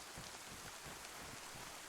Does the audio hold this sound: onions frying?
no